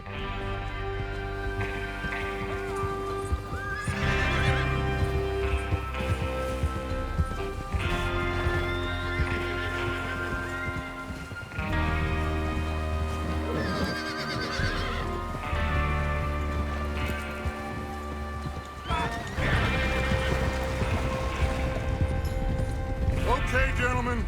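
Horses neigh and whinny over steady clip-clop hooves in a Red Dead Redemption Western outlaw scene before a train robbery, loud and continuous with repeated whinnies, under game music and voices talking.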